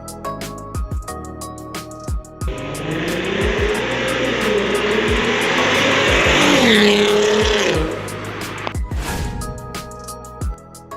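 A Volkswagen Golf Mk5 R32 with its VR6 engine revs hard for several seconds, a loud rising and falling engine roar with sharp clicks and knocks before and after, and no talking.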